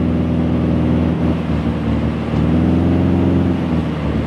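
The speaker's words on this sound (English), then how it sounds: "You're not just listening to a sampled recording of a poor-running engine." A poor-running piston engine in an A2A Accu-Sim Bonanza V-Tail flight simulator drones steadily and loudly throughout, a continuous low rumble with slight surging and no voices.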